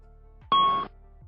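An A320 ECAM failure alert gives a single bright electronic chime, a clear ding that starts sharply and rings for about a third of a second before cutting off over a quiet cockpit hum.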